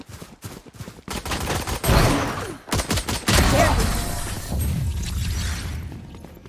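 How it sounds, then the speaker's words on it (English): Gunfire in Valorant during a tournament match, with a Desert Eagle pistol among the shots: a dense run of sharp bursts and cracks with loud rattling stretches and brief gaps between volleys. "Precise hit a beautiful headshot onto Monty right here using the Deagle"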